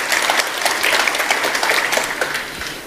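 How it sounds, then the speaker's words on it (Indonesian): Steady applause, dense and loud, runs throughout during a Tuesday Bible service as the preacher claps his hands, with no talk over it and a slight fade near the end. "Saya tepuk tangan untuk kebenaran ini."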